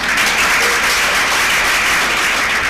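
A crowd at a yoga school opening ceremony breaks into loud, sustained applause, dense clapping filling the whole stretch without pause.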